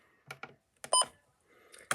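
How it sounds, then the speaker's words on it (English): A weather radio's buttons are pressed close by, giving a few soft clicks and one or two short electronic beeps in a quiet room. "So that's how you do button beeps on your weather radio."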